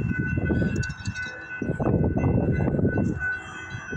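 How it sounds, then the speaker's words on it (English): A northbound CSX mixed manifest freight train passes in Dayton, Ohio, with a loud rumbling roll of wagons and steady wheel noise. A sustained horn tone rides above the rumble. "we got a train coming here in Dayton,"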